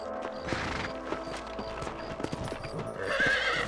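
Video game horse hooves clip-clop in a steady trot, close and clear, with a horse whinnying near the end.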